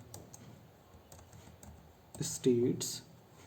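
An axis title being typed on a computer keyboard for a chart: a few soft, brief key taps, with a voice speaking briefly near the end.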